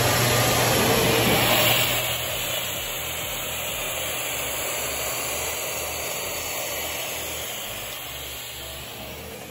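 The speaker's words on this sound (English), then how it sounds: "if I use it with my scroll saw here and tension the blade, turn it on" A scroll saw runs with tool-activated dust collection, giving a loud, steady broadband whooshing roar under a constant low hum, slightly louder at the start and then holding even throughout, with no talking.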